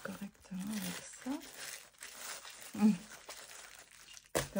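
Tissue paper crinkles and rips in short, soft bursts, quiet and close, with a person talking throughout.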